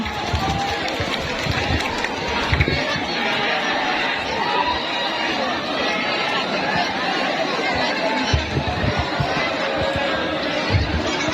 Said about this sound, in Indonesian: Beri tepuk tangan yang meriah untuk Jambe Belodan.